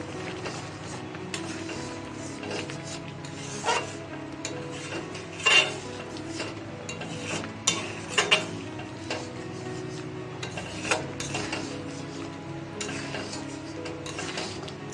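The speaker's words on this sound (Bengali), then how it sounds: "নাড়িয়ে নেব।" Gobindobhog rice payesh being stirred in milk, with soft scraping strokes of a spoon against the pot, a few sharper clinks and a faint steady simmer underneath, close by with no talking.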